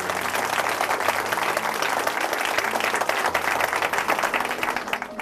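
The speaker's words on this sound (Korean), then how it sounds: "다시 한번 큰 박수 부탁드립니다." A church congregation gives continuous applause: dense, loud clapping from many hands that holds steady for several seconds and fades slightly near the end.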